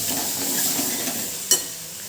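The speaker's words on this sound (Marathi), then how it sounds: "लगेच टोमॅटोची त्याची ग्रेव्ही टाकली की लगेच परतून घ्यायचं" Thick tomato gravy sizzles and spatters in a hot pan as it is stirred, a steady crackling hiss with a brief scrape partway through.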